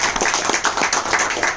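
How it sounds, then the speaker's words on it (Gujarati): A small crowd at a business meeting claps for a team member, giving a brief burst of fairly loud, rhythmic hand claps lasting under two seconds. "એમના માટે જોરદાર તાળી દીધી"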